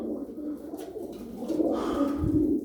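Tumbler pigeons in a flock of fifteen coo softly nearby, low murmuring calls overlapping in a steady burble with no talking.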